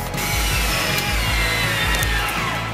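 Power drill driving screws into wooden blocks, running in short repeated bursts with brief pauses between them, close and loud throughout.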